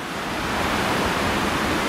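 High winter water on the River Ogmore rushes over a weir, a dense and constant roar close by that swells slightly partway through.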